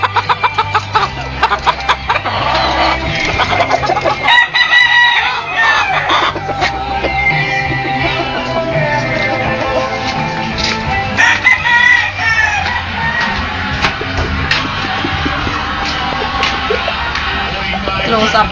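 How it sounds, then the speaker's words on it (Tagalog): A large flock of chickens and roosters of many different kinds crows and clucks all at once, with roosters crowing repeatedly over busy clucking, close and loud, while voices murmur faintly in the background. "Nakikita nyo po, ang dami pong manok dito."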